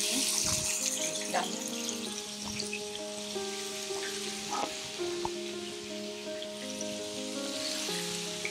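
Chicken frying in about two tablespoons of hot oil in a pan, a steady close sizzle with occasional stirring clatter, while someone talks over it.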